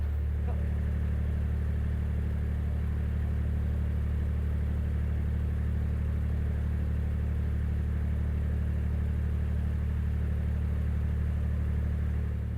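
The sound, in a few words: motorway traffic of cars and trucks heard from canal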